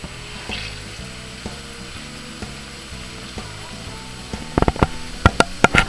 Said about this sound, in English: we've got this going, and the pork's just starting to cook